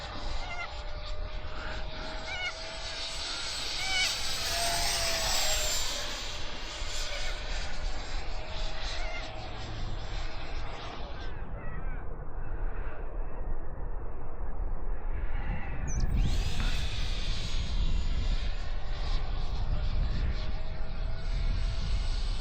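H.King L-39 64mm electric ducted-fan RC jet on 4S power making a flying pass, a continuous whining roar that swells as it nears, dips mid-pass and rises again, with someone talking under it.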